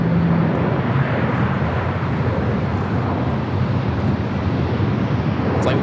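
A Korean Air airliner at LAX, a broad steady engine roar close by with wind rumble underneath, sustained without breaks and no talk over it.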